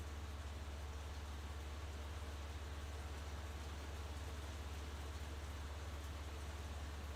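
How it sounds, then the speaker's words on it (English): Heavy rain pours in a steady, unbroken hiss with a low rumble beneath, constant and fairly distant throughout. "That is some heavy ass rain."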